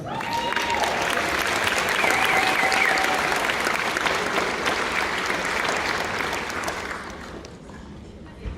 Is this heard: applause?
yes